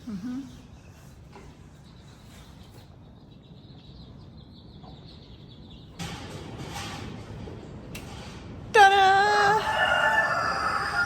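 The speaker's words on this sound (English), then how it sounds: "Even the cockerel's celebrating." A rooster crows loudly near the end on a smallholding in January, a sharp rising call over quiet background noise with some brief clatter just before it.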